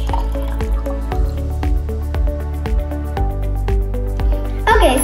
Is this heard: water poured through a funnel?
yes